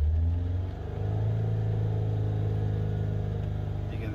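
Diesel engine freshly repaired after injector pump work revving up hard, a loud steady rumble with rising mid-range drone, then easing off as the throttle is released.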